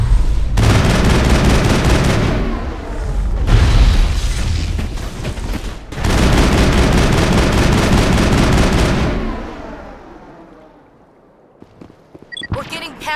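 Battle crossfire in the Mass Effect video game: loud, sustained volleys of gunfire and heavy booms in long bursts, fading to quiet with a few faint clicks at the end.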